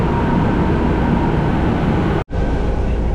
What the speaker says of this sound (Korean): 공짜로 한번 지하철 타보겠습니다